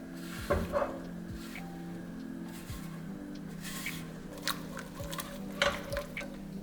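Spoon scraping and stirring in a pot as cheese goes into Kraft macaroni, with soft intermittent scrapes and clinks, close and fairly quiet, with no talking.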